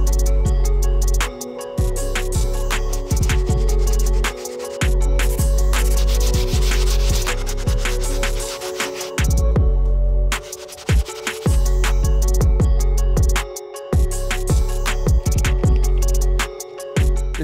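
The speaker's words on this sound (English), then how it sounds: "We'll start off with the soft bristle brush for the insole" Soft bristle brush scrubbing the insole of a suede Air Jordan 12 sneaker, a close, loud rasping scrub in repeated back-and-forth strokes with brief pauses between bursts.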